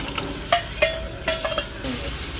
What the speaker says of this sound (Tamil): ஸோ இந்த ஸ்டேஜில் நம்ம வந்து சிக்கனை போட்டுடலாம்